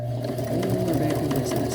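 Sewing machine back-stitching on a quilt, a brief close whirring run with rapid needle patter, a voice speaking over it.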